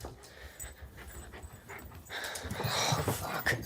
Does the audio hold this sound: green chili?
no